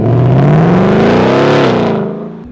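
A Ford Mustang GT V8 revs up loudly, engine and exhaust note rising steadily in pitch as it accelerates close by, then easing off and fading at the end.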